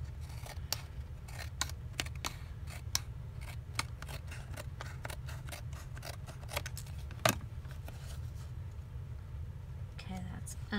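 Scissors snip through paper scraps for crafting embellishments, giving a rapid run of sharp, close cutting clicks with brief pauses, quiet and mostly alone over a low background hum.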